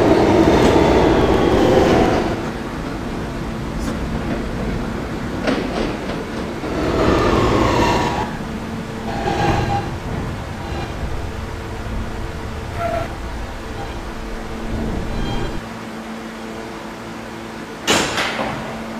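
A Kawasaki R160 E subway train rumbles along with loud wheel and rail noise, a sharp squeal near the start, then clatter and clicks over the track joints and a softer rolling hum toward the end, with no talk.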